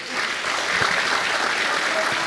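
Audience applause at a public talk on Europe, steady dense clapping filling the room for the whole stretch, with no voices over it.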